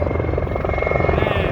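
Helicopters fly at an air show in Serbia, producing a steady, loud, rapid rotor chop with a droning engine hum, close overhead and continuous.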